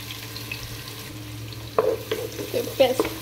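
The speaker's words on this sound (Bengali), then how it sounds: "পেঁয়াজটা হচ্ছে আমি একটু ব্রাউন করে আমি ভেজে নেব তেলটা" Chopped onions hit hot mustard oil in a pan partway through a quiet kitchen hum, then sizzle steadily with scraping stir strokes.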